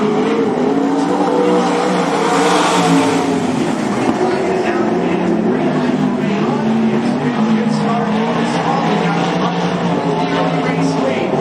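Race cars roar continuously around the dirt oval at Cottage Grove Speedway, a dense, loud engine drone filling the whole stretch with no clear breaks, as if the pack is close and battling.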